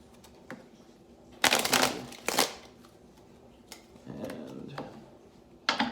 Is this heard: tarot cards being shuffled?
yes